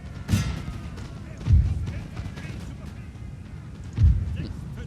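Artillery fire in the Napoleonic strategy game 1805 European Campaign: three muffled low booms spread a second or two apart over a continuous rumble of battle noise.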